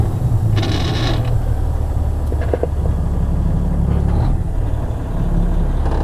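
A truck's loud rumbling heavy engine idles while a brief hiss of air brakes releasing and creaking, clunking mechanical noises sound close by as it pulls away.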